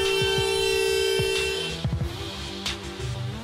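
A car horn in traffic gives a long, steady blast that cuts off, followed by a few shorter, softer honks and thumps.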